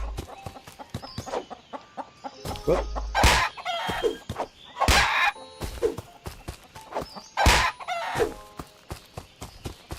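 Chickens in a video game cluck and squawk in busy, overlapping bursts, with a crowing call among them, while a man briefly exclaims.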